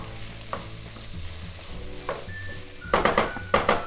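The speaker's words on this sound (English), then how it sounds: "Then we'll add our tofu in there." Tofu and vegetables sizzle in a frying pan over a high flame, with a steady fry under occasional scraping stirs that grow sharper near the end, close up and without talk.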